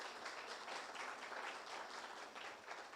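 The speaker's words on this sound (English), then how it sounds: "Do you want to give them a round of applause to your lectures?" Applause from an audience for the staff and lecturers at a media exhibition rolls on faint and distant, an even wash of many hands clapping for a few seconds.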